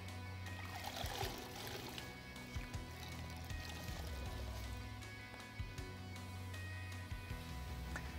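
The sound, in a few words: rinsing a foam motorcycle air filter with water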